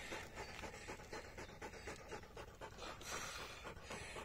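A Polish Hound pants rapidly and steadily after a 22.5 km bike ride in hot weather, close and moderately loud, with quick rhythmic breaths throughout and no talking.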